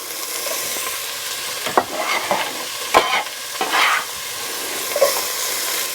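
Chopped onion and raw pork for red chile carne adovada hit a hot pan, giving a soft constant sizzle with a few louder stirring scrapes and pops scattered throughout, heard alone.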